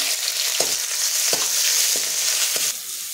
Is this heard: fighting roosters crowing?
no